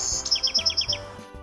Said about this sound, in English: It's a sparrow.